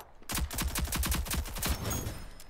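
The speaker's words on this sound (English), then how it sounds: "Her little gun is full auto." A small full-auto gun in a video game rattles off a rapid, evenly spaced string of about a dozen loud shots, then trails off into ringing echo.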